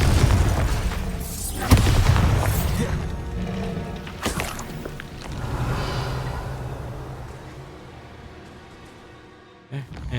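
Confringo blasting spell from the Hogwarts Legacy video game, heard as loud booming explosions and crashes, several bursts in a row over a dense game soundscape, with a voice speaking faintly beneath.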